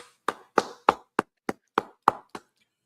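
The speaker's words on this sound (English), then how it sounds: "clap it up" Eight sharp, evenly spaced hand claps from a class audience, crisp and close, each one separate with silence between, no talk over them.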